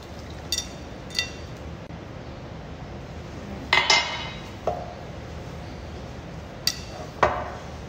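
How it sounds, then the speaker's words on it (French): A utensil knocks and clinks against a bowl while ingredients with salt are mixed, giving a few sharp scattered taps over a quiet kitchen background. "Il faut bien mélanger."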